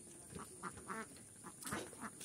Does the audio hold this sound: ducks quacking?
yes